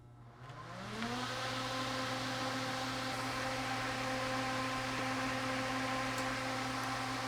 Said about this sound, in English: this fan's going to keep spinning